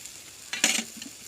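A spoon briefly scrapes through brinjal bharit, a mashed eggplant dish cooked in a pan over a wood-fired stove, as salt is worked in. A single short, bright stirring rasp rises over a faint sizzle.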